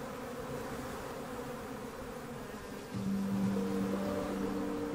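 Honey bees inside the hive make a dense, continuous buzzing hum that swells slightly louder halfway through, close and steady with no voices.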